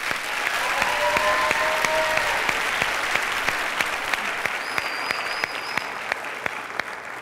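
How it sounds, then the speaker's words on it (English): An audience at a junior miss pageant preliminary night gives the contestants a sustained round of applause, dense steady clapping across the hall with a few sharper claps standing out near the end. "Let's give all the contestants one more round of applause."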